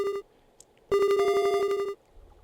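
An unanswered phone call rings in the game Escaped Chasm: a short electronic tone, a pause, then a longer buzzing ring lasting about a second before cutting off, clear and alone.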